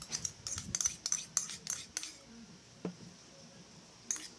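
Utensils clink and scrape against a mixing bowl while corned beef, minced onion and garlic are stirred together. The sharp metallic taps come in a quick cluster, then fall quiet, with one last faint clink.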